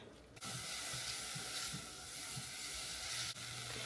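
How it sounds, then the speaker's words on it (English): Onions sautéing in leftover fry-bread oil in a pan give a steady, close sizzling hiss that runs almost unbroken, with a brief quieter moment near the start. "I'll put my onions in here, saute them up a bit."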